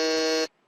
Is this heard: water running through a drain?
no